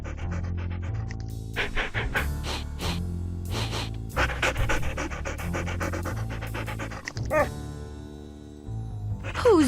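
Ghost dogs in the Nancy Drew video game Ghost Dogs of Moon Lake pant steadily and loudly over continuous game music.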